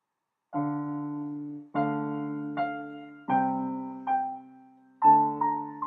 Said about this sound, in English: So normal piano sound would sound like this.